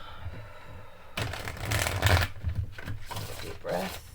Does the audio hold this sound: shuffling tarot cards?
yes